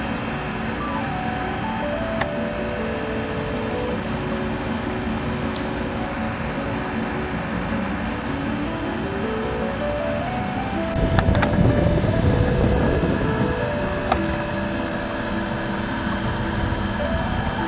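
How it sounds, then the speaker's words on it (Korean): A steady mechanical hum and whir of a small portable camping air conditioner running continuously, with a brief louder rustle partway through. "그래도 미지근한 바람이 제법 나옵니다."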